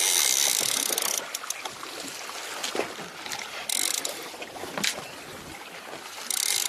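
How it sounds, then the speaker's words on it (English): Fishing line screams off a reel in three buzzing high-pitched runs while fighting a large saltwater fish, separated by clicks and boat noise. "Screaming line off again."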